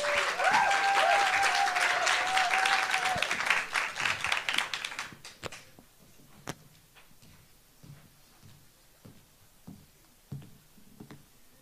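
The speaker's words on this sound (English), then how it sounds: "Can we please have a warm round of applause for Struan Henderson" A warm round of audience applause for a young poet at a Scottish youth poetry slam, loud and dense for about five seconds, then dying away into scattered claps and quiet.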